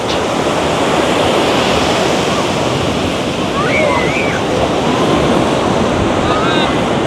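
Ocean surf rolls and washes up the sand at busy Seminyak Beach in Bali, a constant loud roar roughened by wind buffeting the microphone, with faint distant voices underneath.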